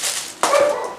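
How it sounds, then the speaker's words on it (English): A single dog barks close by, one sharp bark with a slight whimpering tail, loud and alone. "I've given up trying to get my dog to stop barking"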